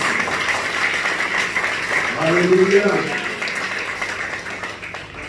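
A church congregation applauding, a broad wash of clapping sustained throughout while someone speaks over it.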